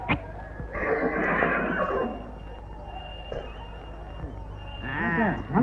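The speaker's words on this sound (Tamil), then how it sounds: "குதிரையா?" A village racehorse whinnies loudly and close by in a wavering neigh that rises and falls near the end. Earlier, rough breathy snorting is heard, with faint voices and background noise.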